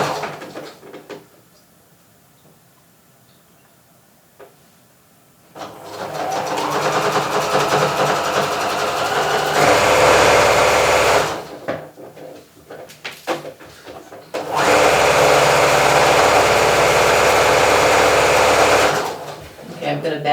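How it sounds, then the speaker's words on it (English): A sewing machine runs in two sustained bursts of several seconds each, stitching a length of knit fabric into a tube for a nursing cover, with quieter pauses and handling noise between runs. "I'm going to stretch a little bit and sew all the way to this opposite end"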